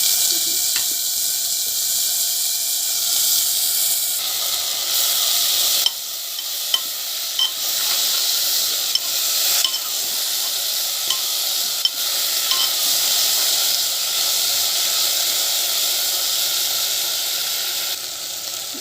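Hot water poured into a pan of fried onions while cooking khichdi, giving a loud continuous sizzling hiss that persists with slight fluctuations, a few clicks and stirring scrapes breaking through.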